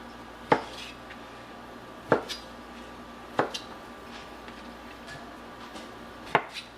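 Knife chopping cored tomatoes into pieces on a cutting board while making gazpacho, four sharp isolated knocks spaced a second or more apart, close and clear over a quiet room.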